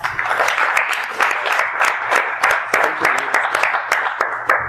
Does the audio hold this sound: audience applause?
yes